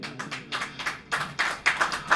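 Several people in a church congregation clap together in short bursts, the claps landing in a loose rhythm that swells and fades over a couple of seconds, with no talk over them.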